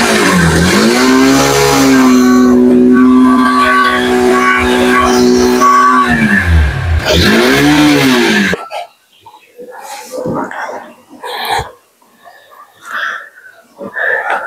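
A Honda Hornet 2.0 motorcycle engine revs up and down through its exhaust for about eight seconds, loud and near, with the pitch swelling and dropping several times. Voices talk after the engine noise stops.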